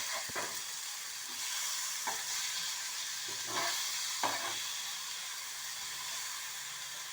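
Fish for a fish curry sizzles steadily in a pan over low heat, with a few soft scraping clicks and taps as the pieces are gently turned; no voices.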